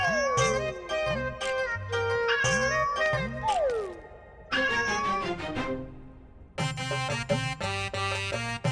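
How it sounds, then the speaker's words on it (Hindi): A cat meows repeatedly in a palace court setting, drawn-out sliding cries alternating with shorter calls, close and fairly loud over bright musical tones. "महाराज ये बिल्ली तो इतनी मोटी है दिखाई ही नहीं दे रही है"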